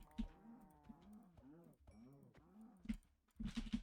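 Several video game cows moo in turn, low drawn-out calls with short gaps between them, close and clear with no one talking.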